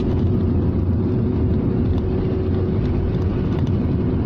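Rover 600ti turbo car accelerating hard on a lumpy road, heard from inside as a steady loud engine drone with road and wind rumble, continuous throughout.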